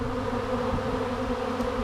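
A swarm of honey bees moving into a bee shed, a dense continuous buzzing drone of many insects, close and steady with no voices.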